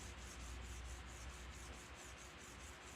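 Hand sanding a forged knife blade with 220 grit sandpaper makes a quiet, close, rhythmic scratching rasp in quick back-and-forth strokes.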